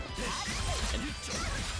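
Shattering Strike attack landing in the DNF Duel fighting game during a netplay tournament match, a dense loud crash and smash with swishing effects that fills the whole moment.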